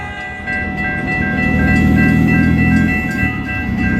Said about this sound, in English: I'll get you the shot in the metro going across, though.